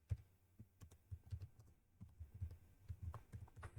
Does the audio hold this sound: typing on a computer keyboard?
yes